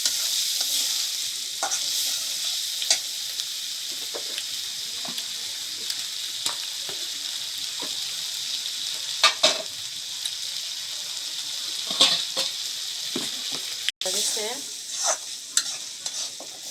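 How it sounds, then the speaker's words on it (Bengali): Dried Eid sacrificial meat fries in a pan, a steady close sizzle with frequent scraping stirs and clinks of the spatula, no talking. "মাংস শুটকি বোনা করলাম, এই যে ভাজি"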